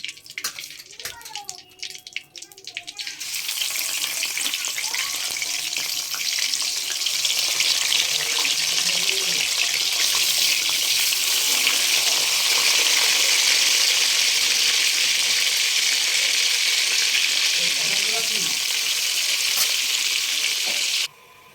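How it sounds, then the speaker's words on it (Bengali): Loud, steady sizzling of fish frying in hot oil, a continuous crackling hiss that swells and holds throughout with little else audible. "মাছটা আমি ভেজে নিচ্ছি আগে।"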